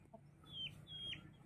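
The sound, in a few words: native rooster clucking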